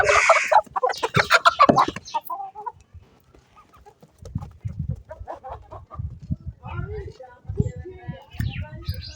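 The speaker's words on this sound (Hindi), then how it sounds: "ये देखिए मुर्गियाँ जो है ना बाहर आने की कोशिश कर रही हैं" Hens clucking and squawking nearby in short, busy bursts as they try to get out of their enclosure, with someone talking over them at the start and again later.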